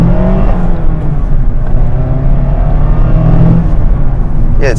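A 2024 Mazda MX-5 Miata RF GT accelerates on a road, its engine a loud, close drone rising in pitch from inside the cabin, with no talk over it.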